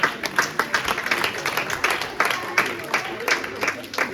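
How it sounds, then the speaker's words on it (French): A church audience at a Mother's Day celebration applauds for the mothers with a brisk run of rhythmic claps, some sharper claps standing out, while people talk at the same time. "On peut applaudir pour nos mamans."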